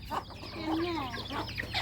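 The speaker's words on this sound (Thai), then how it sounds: "ทางนี้ก็ไก่" Chickens cluck on a small farm where pigs and ducks are kept, short clucks and a drawn-out call close by, over steady outdoor background noise.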